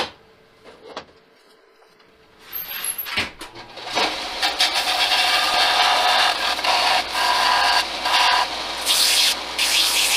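A model car axle being dressed with a sanding or grinding tool: a few quiet taps, then a continuous loud rasping whir close by from about four seconds on, fluctuating slightly in strength.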